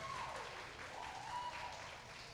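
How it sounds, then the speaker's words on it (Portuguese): A church congregation applauds during a Christmas celebration service, a faint, continuous wash of clapping that sounds somewhat distant and lasts a couple of seconds with no speech over it. "Eu queria que vocês aplaudissem a Jesus pela vida do Adriel"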